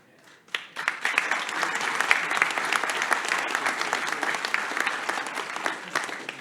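Applause for newly elected councillors at a council's inaugural meeting, rising quickly from quiet into dense, sustained clapping that holds steady to the end.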